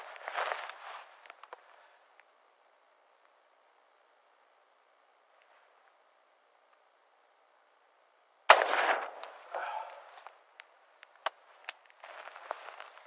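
Close-range AR-15 rifle fire from a standing shooter, heard as one sharp loud crack followed by a few scattered, fainter impulsive bangs and clatter, after a long quiet stretch.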